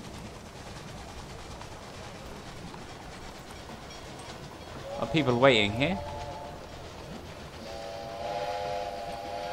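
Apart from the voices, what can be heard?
train running in the video game Railway Empire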